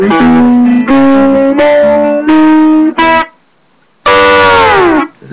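Guitar plays a quasi-shuffle, walking up to a 7th chord: loud, distorted sustained notes stepping upward in a row, then a short pause before a final ringing chord that slides and fades.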